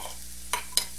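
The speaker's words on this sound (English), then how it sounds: "Going to cook that for about 1 minute just to cook the raw flour taste out." Flour cooks and stirs in a hot pan, giving a soft frying hiss with two sharp scraping strokes from the stirring, close and fairly quiet.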